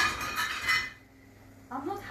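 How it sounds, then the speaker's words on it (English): A plate smashing in a home kitchen: a loud, close crash and clatter of breaking crockery at the start, fading to quiet before a softer clink of pieces settling. "I smashed the plate."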